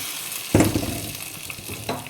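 Mustard seeds splutter in hot coconut oil for a tempering, with a quiet sizzle broken by two sharp popping bursts, one strong and one weaker, close by and with no voices.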